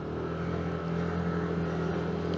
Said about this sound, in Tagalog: Ingat lang kayo kasi maraming mabibilis dito na sasakyan.